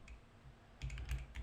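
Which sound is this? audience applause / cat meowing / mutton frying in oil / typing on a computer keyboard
typing on a computer keyboard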